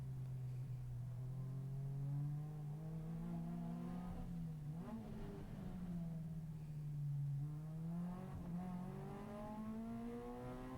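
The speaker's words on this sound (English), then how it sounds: "Got to watch that wheel spin in second gear there." Race car accelerating hard in second gear with wheel spin, engine revs rising and dipping through a couple of shifts, a continuous close in-car roar with no voices.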